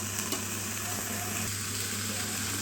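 Chicken malai kabab sizzles as it roasts, a continuous close hiss and crackle with a low steady hum underneath, no talk.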